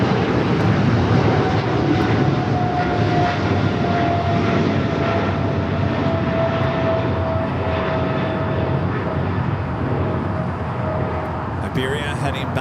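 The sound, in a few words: aircraft jet engines at LAX airport, Iberia flight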